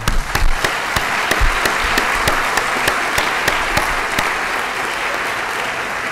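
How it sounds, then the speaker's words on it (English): Graduation ceremony audience clapping in a hall, loud dense applause with a few sharp individual claps standing out, sustained evenly throughout. "Now we clap."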